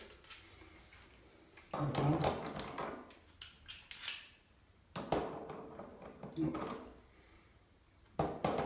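Metal tools clinking and clattering while someone rummages through a tool kit for a tap spanner, irregular bursts of jangling close up, with someone talking in between.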